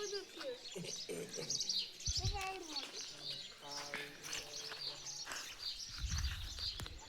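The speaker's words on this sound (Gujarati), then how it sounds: "કેટલા ચકલા આવ્યા" Sparrows chirping in a home garden in the evening, many quick overlapping tweets close by, with a child and other people talking underneath.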